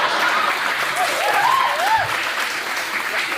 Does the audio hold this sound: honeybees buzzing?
no